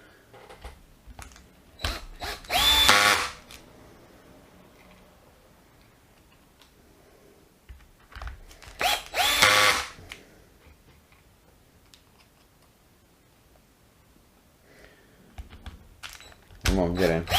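A Worx drill drives screws at torque setting 2 in three short bursts, each with a rapid ticking ratchet from the clutch, separated by quieter pauses with some speech.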